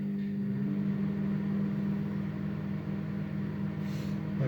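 A microwave oven hums steadily while heating a chicken vindaloo ready meal, a low constant drone with no talking.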